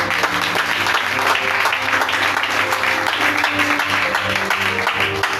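A church congregation applauds steadily throughout, dense continuous clapping with no breaks, with faint background voices and tonal sound mixed in beneath the claps.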